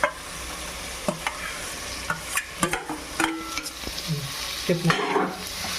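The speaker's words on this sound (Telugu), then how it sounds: "టమాటా, క్యారెట్ వేసుకొని తిప్పుకోవాలి ఫుల్గా" Onion, tomato and carrot stirred in a frying pan for mushroom pulao, giving irregular scraping clatters and clinks from the spoon over a soft, steady sizzle at close range.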